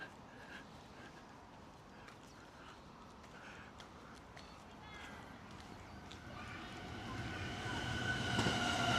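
A Chuo Line train in Japan rumbles steadily, its broadband roar swelling louder toward the end as it nears, with faint voices and clatter mixed in underneath.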